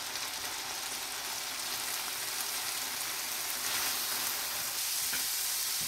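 Chicken, green onion whites and carrots fry in a hot pan for chicken fried rice, giving a dense, steady, close sizzle and crackle that runs unbroken throughout with no voices.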